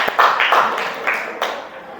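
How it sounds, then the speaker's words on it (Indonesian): Short burst of classroom applause for a student in an eighth-grade junior high science lesson, a few quick scattered claps close by that fade within two seconds. "Betul sekali, tepuk tangan untuk Wina."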